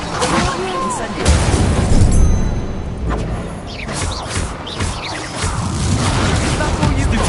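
Incendio fire spell cast in Hogwarts Legacy combat, loud whooshing bursts and booming impacts layered with clattering crashes and continuous game effects, with voices speaking over the action.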